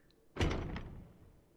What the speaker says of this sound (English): The door opened and someone entered.